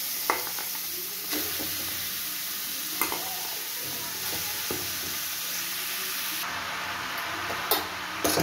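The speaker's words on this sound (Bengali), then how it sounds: "তেলের মধ্যে এবার আমি লাউটা দিয়ে দেবো।" Chopped bottle gourd fries in a little hot oil, a steady close sizzle broken by occasional scrapes and clinks as it is stirred in the pan.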